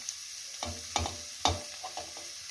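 Onion frying in a pan, heard as a soft background sizzle broken by several sharp stirring scrapes and clatters of a utensil against the pan, with no one talking.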